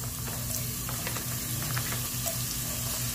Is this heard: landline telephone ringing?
no